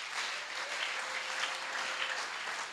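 A church congregation applauds the Lord, steady sustained clapping from a crowd filling the space at an even, loud level throughout.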